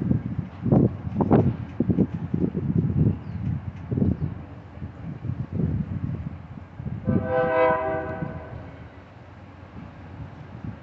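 Union Pacific locomotive UP 6005 leads a freight train out of Roseville, California, with rumbling engine and rail noise, then a loud sustained chord from its train horn blasts for about a second and a half near the end.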